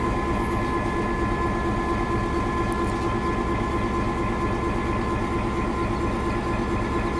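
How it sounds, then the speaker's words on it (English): NC&StL 710 steam locomotive idles with a steady low rumble and constant hiss while running around its train on a parallel track at the Tennessee Valley Railroad Museum, the sound even and unbroken throughout. "the locomotive will go past our train on track number two and then do a switch"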